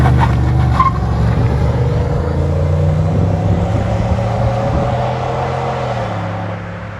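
A 2015 Chevy Silverado LTZ Texas Edition with a 6.2-liter V8 and long tube headers rumbles loudly at close range. Its deep, steady exhaust note eases off slightly toward the end.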